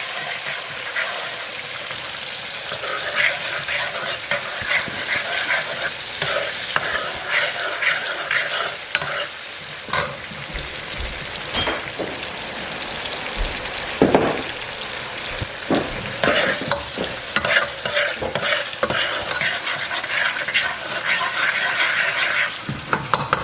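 Onion sizzles in hot oil inside a Ninja Foodi while a utensil stirs it, making continuous close frying hiss broken by frequent scrapes and clicks against the pot, with no speech.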